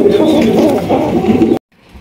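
A pair of fancy pigeons coos nearby, low throaty warbling that fills the first second and a half, then cuts off abruptly into near silence.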